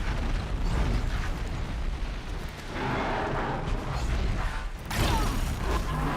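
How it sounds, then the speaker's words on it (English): Explosion set off in the video game Horizon Zero Dawn, a loud broad blast with a rumbling body, heavy and close, followed by continuous crackling and a second burst near the end. "There, I freaking detonated it."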